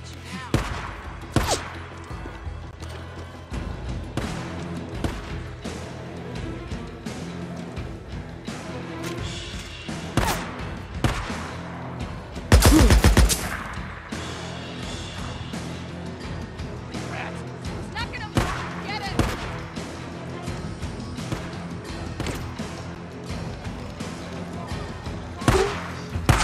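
Gunfire in the video game Days Gone, scattered sharp shots popping repeatedly through a busy game scene, one heavier burst near the middle, with voices talking intermittently over the action.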